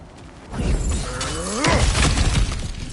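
Cracked ground smashed apart in God of War Ragnarök: a loud breaking crash of shattering rock and debris that swells and rings on for a couple of seconds, with no talk.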